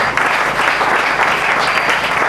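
A church congregation applauds loudly and continuously, a thick, full wash of many clapping hands that stays strong from start to finish.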